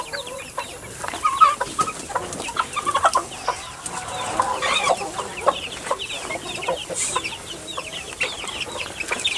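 Chickens cluck continuously in a coop, a busy flock of overlapping short calls close by, with no one talking.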